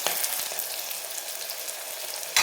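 Pieces of mutton fat fry in a pan, giving a steady close hiss and sizzle with light crackles throughout the brief stretch, with no talk.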